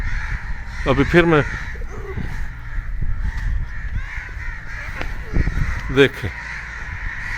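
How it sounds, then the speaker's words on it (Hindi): Several crows gathered outdoors cawing loudly and close by in harsh bursts, with someone talking between the calls. "ये देखें अब कितने कौवे हैं यहाँ पे।"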